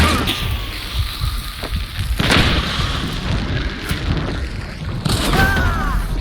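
Dynamite blast in the game Hunt: Showdown, a deep boom followed by rumbling gameplay noise and further thuds, fairly loud with no talk over it.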